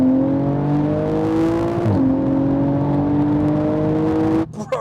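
A 900bhp Porsche Turbo accelerates hard along a dual carriageway at night, its engine note climbing steeply through one gear, briefly dipping at a shift and rising again before cutting off abruptly, heard loud from inside the car.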